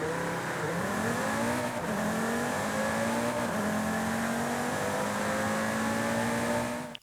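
A video game car engine, an Audi TT RS with a 2JZ engine swap in Forza Horizon 5, drones and revs, pitch climbing and dropping through several gear shifts, steady and loud with no voices.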